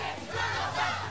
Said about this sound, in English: A disorderly crowd.